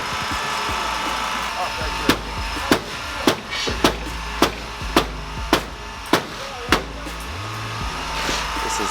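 A hammer strikes a damaged Mazda MX5 after a drift crash, about ten sharp metallic blows in a steady rhythm over engine noise and voices in the background.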